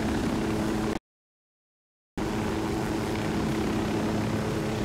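A helicopter flies in the Ghost Recon Wildlands video game, making a loud, steady rotor and engine roar that cuts out into a second of dead silence and then resumes unchanged.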